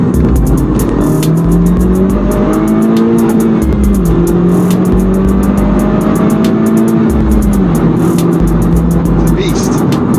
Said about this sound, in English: It's got turbo noises. I can hear the dump valve.